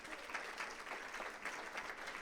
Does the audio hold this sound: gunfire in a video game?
no